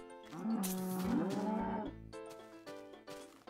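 Cows mooing in the video game Minecraft, one drawn-out low moo near and clear followed by shorter bovine sounds, with no talk over it.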